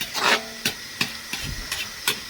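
Thick chicken curry simmers in a pot, giving irregular soft pops and bubbling bursts every half second or so, close and moderately loud with a faint hiss between them.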